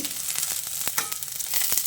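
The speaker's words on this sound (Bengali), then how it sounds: "এবার গ্যাসের ফ্লেমটাকে হাইতে করে পেঁয়াজটাকে ভেজে নিচ্ছি।" Chopped onions frying hard in a pan over a high gas flame, giving a loud, continuous sizzle with crackling pops and occasional stirring scrapes, with no talking.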